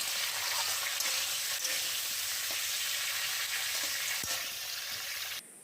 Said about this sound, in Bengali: তো প্রথমে কড়াতে সর্ষের তেল গরম করে নিলাম আর তার মধ্যে দিয়ে দিচ্ছি আলুটাকে নুন হলুদ দিয়ে মাখিয়ে রাখা ছিল। এবার আলুটাকে ভেজে নেওয়া হচ্ছে।